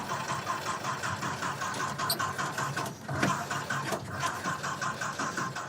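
A Jeep Wrangler Rubicon's starter cranks the engine in a steady rapid pulsing whir at close range, with a brief dip midway before the cranking continues, no speech over it.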